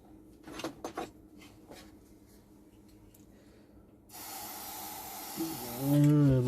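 Aerosol contact cleaner is sprayed into the controls of a large Grundig Megatron CRT television: a few knocks and clicks, then a sustained loud hiss of spray that ends in a louder burst.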